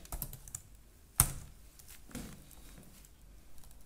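Typing on a computer keyboard while entering script code, a steady patter of small key clicks with one sharper louder keystroke partway through, close and fairly quiet.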